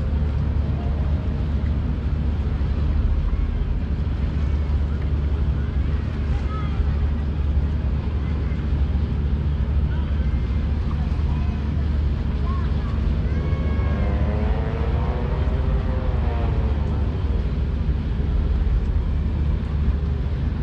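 The passenger ship KM Gregorius rumbles steadily as it slowly throttles up and turns to starboard leaving Manado, a dense, continuous low engine drone with wind buffeting and faint voices in the background.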